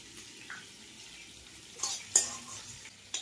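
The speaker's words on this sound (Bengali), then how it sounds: "4টি এলাচ, শাহি জিরা, জয়িত্রী, একটি বড় এলাচ ও কয়েকটি লবঙ্গ আর দারচিনি, এগুলিকে শুকনো খোলায় ভেজে নেব" Cardamom, big cardamom, shahi cumin, mace, cloves and cinnamon dry roasted in a hot pan, a quiet rustling stir with a few sharp metallic scrapes and clinks of the utensil near the end.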